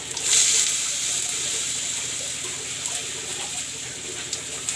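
Water poured into besan (gram flour) chila batter, a steady, even hiss of flowing liquid that runs on for several seconds without breaks, close by, with no talking.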